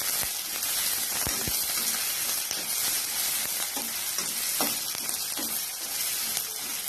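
Onions and green chillies sautéing in a pan for vegetable kurma, a dense, loud continuous sizzle with occasional stirring scrapes, close up and without speech.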